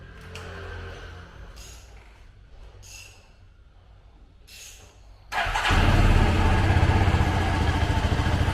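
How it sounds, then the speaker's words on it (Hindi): Motorcycle engine cranking and catching after oil is poured in from the top, on a bike with suspected compression loss; a few quiet ticks and clanks, then a loud, sustained rough running roar fills the second half. "अभी हमने ऑयल ऊपर से डाल के स्टार्ट किया है"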